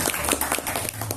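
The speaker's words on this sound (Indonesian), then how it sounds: "Kasih tepuk tangan sekali" An audience at a Lampung Timur arts and culture event claps in a brief, close burst of applause with irregular individual hand claps and no talking.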